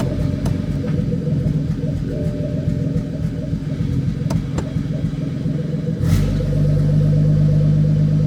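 An N54-swapped BMW F80 M3 pulls hard through the gears, a deep, steady engine rumble heard from inside that shifts pitch near the end and then holds a stronger drone.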